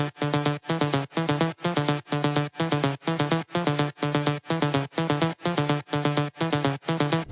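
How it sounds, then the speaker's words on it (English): Tech house drop pluck synth built in Serum, processed with OTT, RC20, EQ, Pancake and sidechain, playing a steady repeating pattern of short, bright chord stabs with gaps between them, loud and alone. "The drop pluck sounds like this."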